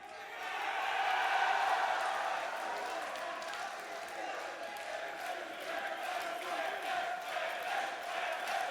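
Live esports crowd at a Team Fortress 2 6v6 playoff grand final, a broad sustained roar of cheering that swells early and holds steady throughout, with a commentator's voice faintly mixed in.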